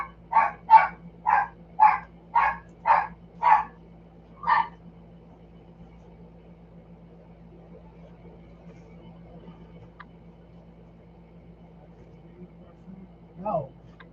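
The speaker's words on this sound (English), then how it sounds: "Dave, that stupid little dog" A small dog barks about seven times in a quick, fairly close series, then once more after a pause, followed by near silence and a brief voice at the end.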